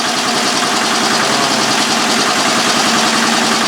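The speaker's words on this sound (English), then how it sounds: "It's starting to get that diesel-y sound to it." A small diesel engine runs loud and close, a steady fast knocking chug with dense rattling noise and an even, unbroken rhythm, with no voices.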